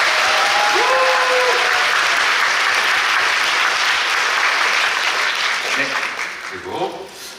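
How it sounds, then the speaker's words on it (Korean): A theatre audience at a stage greeting after a performance of the musical Paganini gives loud, sustained applause for the seven-piece live band, fading near the end, with a voice briefly audible over it. "우리 밴드 분들께도 박수 한번 부탁드니다"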